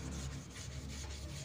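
Sandpaper rubs back and forth over a dented, filled steel fuel tank from a Honda GL Max motorcycle in a paint workshop, giving a steady, close, rasping scrape with no talk.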